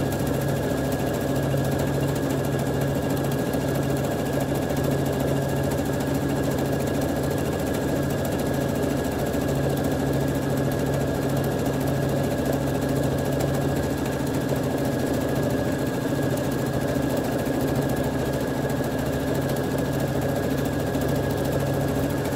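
A sewing machine runs steadily, stitching over soluble film with a continuous close mechanical hum and drone, unbroken and fairly loud throughout.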